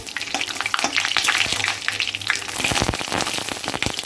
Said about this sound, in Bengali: গোটা গরম মশলা, গোটা জিরে আর শুকনো লঙ্কা দুটো, আর দুটো তেজপাতা। ফোড়নটা আমি ভালো করে ভেজে নেব।